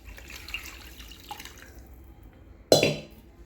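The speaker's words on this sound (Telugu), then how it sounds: "వేయించాక ఇలా తగినన్ని నీళ్లు పోసుకొని" Water poured into fried spice masala in a cooking pan: a single loud splash and sizzle that bursts in near the end and tails off, after quiet kitchen background.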